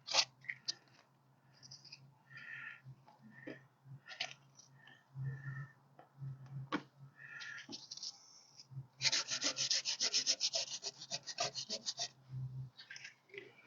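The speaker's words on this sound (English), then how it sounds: "Always make sure your sandpaper is good and wet." Soaked 200-grit sandpaper rubs wet across a surface in irregular strokes, soft and close, with a faster, denser run of scrubbing partway through.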